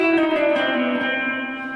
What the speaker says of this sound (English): it's just behaving like a normal reverb, and I've put the mix level down to halfway